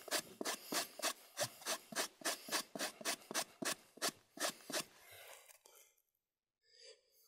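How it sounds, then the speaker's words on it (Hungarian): Rhythmic rasping strokes of sandpaper on the mouth of a plastic IBC water tank, about fifteen even close strokes that then slow and fade into quiet. "És ugye egy picit megcsiszolom a köbösnek a száj részét."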